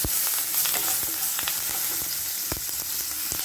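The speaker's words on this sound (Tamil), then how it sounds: "கருவேப்பிலை காஞ்செல்லாம் நல்லா பொரிஞ்சிட்டு இப்போ பார்த்தீங்கன்னா கருவேப்பிலை சேர்க்கணும்" Dried chillies and curry leaves crackle and sizzle steadily in hot oil, close by, with sharp pops and clicks scattered through the frying and no voices.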